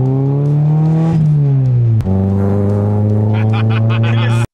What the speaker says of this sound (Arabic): صوت الموتور مع الانتيك والاكزوست كان عامل سيمفونية يابانية كلاسيكية